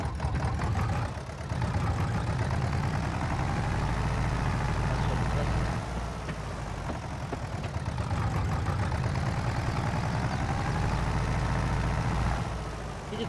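Tractor engine in Farming Simulator 22 running steadily for the whole stretch, a loud low rumble with a mid-range drone, accompanied by game background sound.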